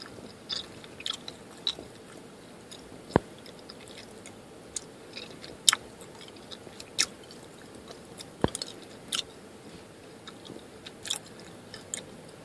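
Gum being chewed inside a parked car, moist smacks and clicks scattered irregularly over a quiet cabin hush, very close to the microphone, with no talking.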